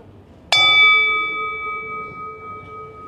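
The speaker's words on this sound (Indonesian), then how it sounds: "itu kayaknya bunyi bel deh" A single bell is struck once, giving a bright, clear ding that rings on as a long, slowly fading tone in otherwise quiet surroundings.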